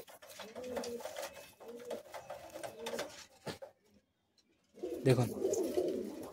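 Old-bloodline Madrasi pigeons coo inside a cage with soft, low, rolling calls close to the microphone, and someone speaks briefly over them.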